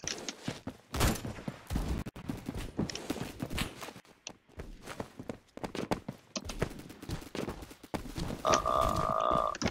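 Gunfire in the Roblox shooter game, repeated rapid shots and impacts in busy bursts spread across the clip, loud and close amid game noise.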